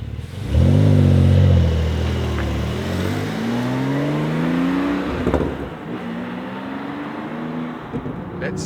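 Porsche 911 Sport Classic of the 992 generation with its 3.7 litre turbo flat-six, heard from inside while driving: a loud rising rev, gear changes, then steady climbing engine drone across several pulls.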